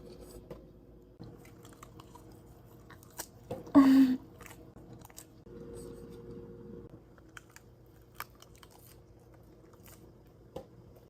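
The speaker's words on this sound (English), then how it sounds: "I am eating it from a pan to save washing up another bowl." Someone eats a green snack straight from a pan, with soft, close chewing and a brief louder crunchy bite, then quiet mouth sounds in a calm indoor room.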